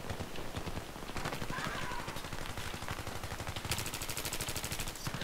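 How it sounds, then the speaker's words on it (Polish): Rapid automatic gunfire in the video game Battlefield 3, a steady stream of loud, close shots with short pauses and a dense burst near the end, with no speech heard. "Z tym się dziwnie strzela, boże."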